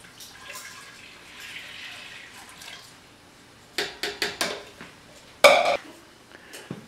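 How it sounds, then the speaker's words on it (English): Milk pours into an Instant Pot's metal inner pot with a few sharp splashes and clinks, then a louder burst of pouring near the end, close and fairly quiet. "the first thing you do is just pour it right in the instant pot"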